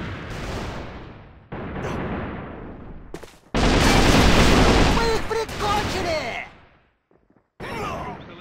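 An enemy grenade goes off with a loud, dense blast in the Alliance of Valiant Arms shooter, in the middle of a competitive match. Gunfire-like bursts and game voices sit around it.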